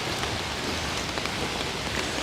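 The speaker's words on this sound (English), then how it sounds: "the rain is just absolutely pouring on down here" Heavy rain pours down steadily on a trail at a homeless camp in Alaska, a dense, continuous close hiss of water with no voices.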